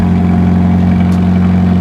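A Toyota 86 engine with an Invidia N1 exhaust and no resonator idles close by, a loud, steady low droning burble with a deep even hum and no voices over it.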